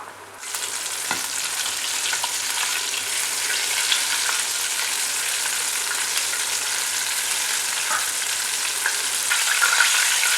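Chicken coated in Hapima crispy fry mix frying in hot oil, a steady close sizzle and crackle that runs the full length with a few faint clinks of stirring and no talk.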